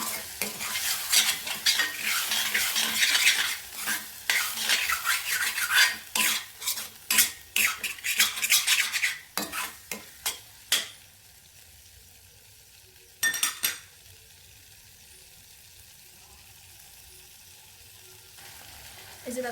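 Spice masala for singara fried down in a pan with meat stock, stirred with a spatula: busy scraping, clinking and sizzling for about ten seconds, then quieter low hissing with a brief clatter of utensils, close and without talk.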